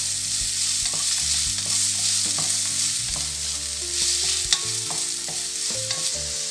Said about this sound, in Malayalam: ഞാനിവിടെ പകുതി സവോളയാണ് എടുത്തിട്ടുള്ളത്. ഇത് നമുക്ക് നന്നായിട്ട് വഴറ്റിയെടുക്കണം.